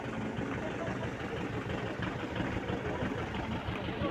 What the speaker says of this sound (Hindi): ये गाड़ियाँ देखिए, बाइकर्स कितने आए हुए हैं